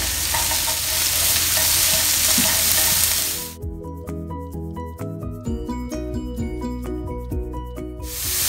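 Onions and thinly julienned carrots stir-fried for black pepper seafood udon: a loud broadband sizzle for the first three seconds, then spatula scraping and tossing clatter with softer frying underneath, surging loud again at the end.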